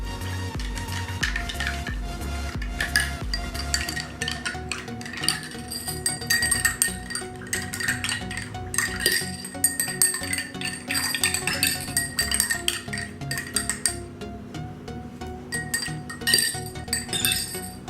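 Detergent solutions stirred in glasses with a spoon, producing rapid, irregular glass clinks and clatters that continue near and fairly loud throughout, with no talking.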